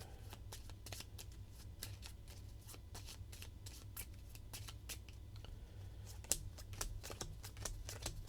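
A deck of cards being shuffled for a solo fantasy board game, quiet riffling and snapping of cards in quick repeated bursts, close and soft.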